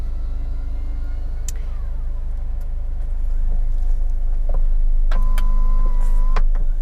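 Retractable hardtop roof of a Mazda MX-5 RF closing, a steady electric motor whine over the car's idling rumble, with mechanical shifts in pitch and a soft finish near the end.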